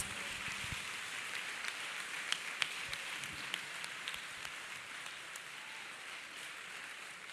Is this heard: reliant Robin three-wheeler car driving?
no